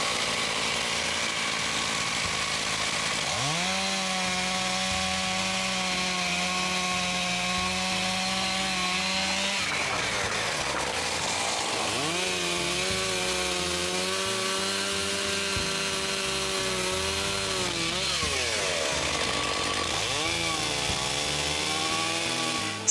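Chainsaw cutting a dead birch tree at a cottage in October: engine revs up into long steady cuts through the wood, drops back to idle briefly, then bites in again for repeated passes, loud and close.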